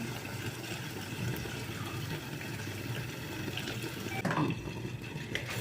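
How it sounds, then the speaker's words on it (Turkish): Hot water pours from a teapot into a pot of rice for chicken pilaf, a steady close gurgling stream that runs continuously with a slight splash near the end, with no talking. "Biraz da sıcak su ekleyeceğim. Çaydanlığımda sıcak su böyle."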